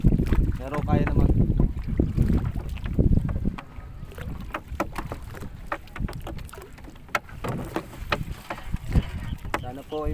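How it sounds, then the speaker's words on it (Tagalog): Strong wind on a river buffeting the microphone from a small fishing boat, loud rumbling gusts that rise and fall throughout, with occasional knocks and some voices talking under the roar. "Medyo malakas ang hangin"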